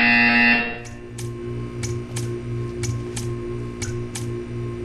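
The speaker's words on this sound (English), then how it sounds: "You will hear a buzzer. When you hear the buzzer, stare at the art." A buzzer in the video game Portal 2 sounds as a series of short, evenly spaced electronic bursts, about nine in a row, fairly loud over a steady low hum, with no talk.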